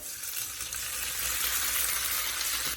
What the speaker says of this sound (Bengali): তো আমি এই ভাজা পেঁয়াজের মধ্যে এখন গোষ্ঠটাকে ঢেলে দিচ্ছি